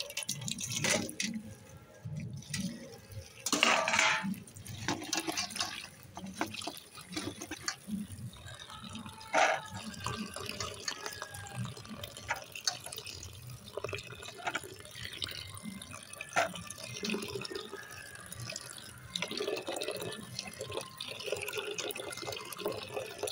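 Cauliflower and bottle-gourd peel being washed under a running kitchen tap, water splashing and dripping into a sink in an uneven, continuous patter with occasional louder gushes, no talking.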